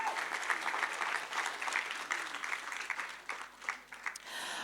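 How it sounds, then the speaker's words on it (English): An audience at a live community event claps together, a dense, sustained wave of applause that swells and dips across the clip before thinning near the end, without clear speech. "So give them a round of applause one more time, e hoa mā."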